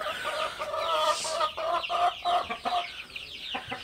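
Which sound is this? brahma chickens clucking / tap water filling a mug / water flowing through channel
brahma chickens clucking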